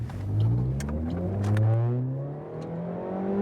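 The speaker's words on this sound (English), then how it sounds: "It does sound great when you're pulling off." A 2013 Suzuki Swift Sport engine revs hard during a launch, with rising pitch under acceleration, a dip as it shifts, then climbing again, heard close from inside the car without talk.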